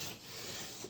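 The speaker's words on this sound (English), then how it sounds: "I'm just nice and smoothly sanding over as to just simply get rid of some of the nips." Light hand sanding over a 1986 Ford Mustang body panel to knock down small nibs, a steady soft rasping rub that continues evenly through the moment, close and fairly quiet with no talk.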